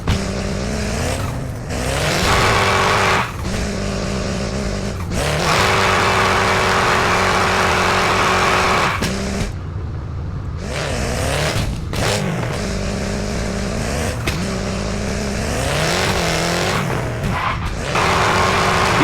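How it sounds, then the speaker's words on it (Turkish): Simulated car burning out against a wall in the mobile game Car Parking Multiplayer 2, with repeated loud bursts of high-revving engine and sustained tire squeal separated by brief lulls, no talk. "Sonrasında duvar gibi nesneye çarpıp lastik yakıyoruz."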